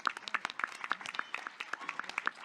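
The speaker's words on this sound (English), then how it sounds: "Please welcome them with a round of applause before I introduce the panel." Brief, faint round of applause from a conference audience at a judicial summit on mental health, a short burst of scattered hand claps.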